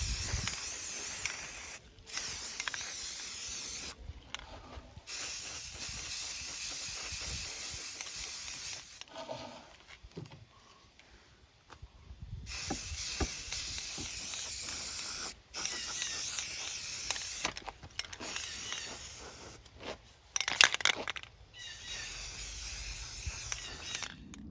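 Rust-Oleum primer and gray paint hiss from an aerosol can onto a metal dock pipe in long, close spray bursts separated by brief pauses, with a quieter stretch midway and no talking.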